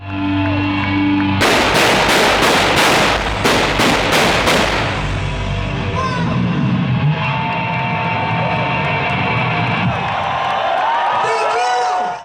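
Stage pyrotechnics at an outdoor rock festival fire as a rapid string of loud, booming blasts in time with drums, then give way to a roaring crowd and band over the remaining seconds.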